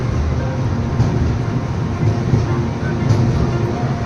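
Kandari Express night train leaving Digha station, heard from inside a carriage as a steady, loud low rumble and rattle of the moving coaches that holds constant throughout.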